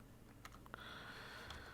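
Computer keyboard typing, a few quiet scattered key clicks that fade under a steady background hum in a lecture setting.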